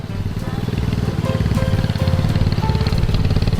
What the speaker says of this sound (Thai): พี่คิวก็ได้ แก้ไขสถานการณ์ด้วยการ เอา ATV มาส่องไฟอ่ะ